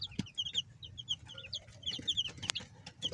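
Chickens and other poultry on a farm cluck repeatedly at close range as they hurry toward food, with short high calls scattered throughout and occasional sharp peeps.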